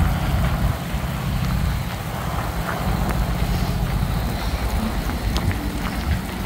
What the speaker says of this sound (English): just out walking the dogs in this hailstorm that swept through all of a sudden with these slushy pea-sized snowballs pelting the poor dogs